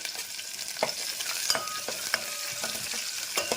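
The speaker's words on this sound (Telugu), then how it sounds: "చూడండి, ఇందులో నేను ఆనియన్స్ వేస్తున్నాను." Onions sizzle in a hot pan for a dal made with cucumber and green chillies, with a steady frying hiss and repeated close spatula scrapes and stirs, and no talking.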